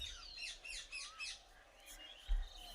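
A female pigeon of the pilong variety calls in a series of faint, quick chirping notes nearby, with a soft low thump near the end.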